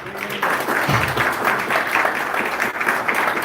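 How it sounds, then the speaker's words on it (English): An audience of Kenyans at a FiberHome and CP Cables partnership event breaks into a round of applause, a steady, fairly loud wash of clapping with some voices mixed in. "Yes, can I hear a round of applause then?"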